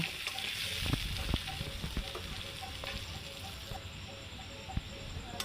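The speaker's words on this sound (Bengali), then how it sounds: "তো নেড়ে চেড়ে সুন্দর করে ভেজে নেব।" Pieces of potato sizzle in hot oil in a home kitchen while being stirred, giving a steady close crackle with occasional sharp spatters and soft scraping.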